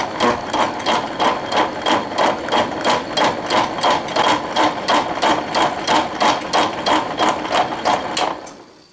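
A machine tool takes a first cutting pass on metal while a hammer is being made, giving a loud, close, steady rhythmic clatter of evenly spaced beats that fades out at the end.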